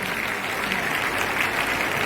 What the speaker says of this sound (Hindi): इतनी जोरदार तालियां बजाइए